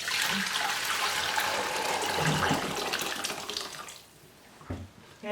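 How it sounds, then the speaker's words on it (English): Broth poured from a slow cooker into a pot, a steady liquid splashing and gurgling that runs for several seconds, then tapers off into quieter handling sounds. "I'm going to pour all this broth now into my pot."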